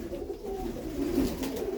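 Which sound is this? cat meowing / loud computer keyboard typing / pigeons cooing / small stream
pigeons cooing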